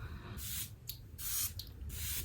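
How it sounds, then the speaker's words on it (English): Patrick Ta She's Thirsty setting spray is misted over a face in three close, quiet hissing bursts, each under a second and separated by short pauses. "For setting spray, we are going to use my Patrick Ta She's Thirsty."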